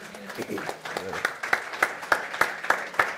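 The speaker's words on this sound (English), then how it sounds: "Come on, clap for that." Audience at a youth event clapping, starting as scattered claps under a speaking voice and settling into a slow, regular beat of rhythmic claps, fairly close and distinct.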